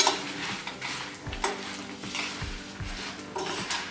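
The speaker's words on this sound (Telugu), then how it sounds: "చూసారా, ఎండుమిరపకాయలు మినపగుండ్లు అన్నీ వేగిపోయాయి" Dry red chillies, urad dal and a pinch of asafoetida fry in a pan just off the stove, a soft sizzle mixed with repeated close scraping and clanking of a spoon against the metal.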